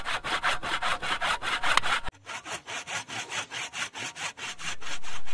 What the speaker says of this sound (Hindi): अब काटते हैं सेकंड लॉग।